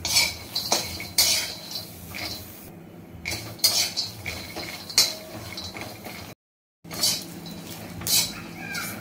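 A spoon scrapes and clinks against a hot griddle while peanuts, green chilies and garlic roast for mirchi thecha, with intermittent metallic stirring taps close by and a brief silent gap.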